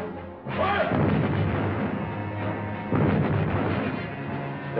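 Artillery guns of the Second World War fire in a loud, sustained barrage, heavy booms rolling into one another with a fresh burst of shots near the middle.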